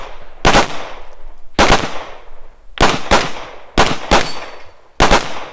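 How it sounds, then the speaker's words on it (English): Gunfire on a shooting competition stage after a reload: six loud, sharp shots close by, spaced roughly a second apart with ringing decay between them. "And then we went right back to blasting after the reload."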